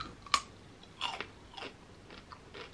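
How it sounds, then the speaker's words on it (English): Someone eats rice with beef stew and cucumber up close in an ASMR mukbang, with a few separate crisp bites and chewing sounds spaced about half a second apart and no talking. "let me go ahead and start eating"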